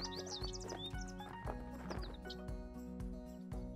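A horse moving its feet during groundwork in a training session, with a regular series of low hoof thuds and clip-clops close by, plus faint higher chirps or whinny-like tones above them.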